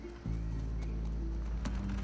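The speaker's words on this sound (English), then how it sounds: "horse, can you slow down" A horse in The Last of Us Part II gallops with quick, loud clip-clopping hoofbeats over a heavy low rumble, a brief burst lasting about two seconds without speech.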